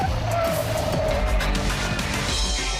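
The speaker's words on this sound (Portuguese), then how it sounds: "Vamos colocar aqui uns 80 por hora, vamos ver, fazer uma curva aqui." A car at about 80 km/h takes a curve, with a steady engine drone and road and tire roar that holds constant throughout, heard from inside the cabin without clear speech.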